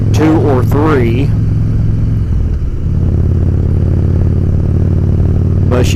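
A Harley-Davidson motorcycle fitted with a Phoenix cam idles loudly and steadily up close with a deep rumbling drone, broken by a couple of brief revs at the start and the end.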